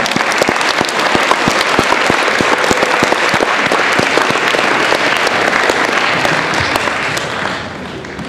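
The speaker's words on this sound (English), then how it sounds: "Give everybody who shared a huge round of applause." A high school assembly audience gives a big round of applause at an anti-bullying event, with loud sustained clapping and distinct individual claps throughout that taper off near the end.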